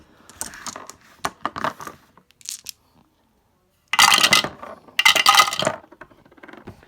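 A whole bunch of dice from a Star Trek Ascendancy board game rolled and clattering, giving sharp plastic clicks and rattles in several quick bursts, including two loud, dense clattering rolls near the end, close and alone.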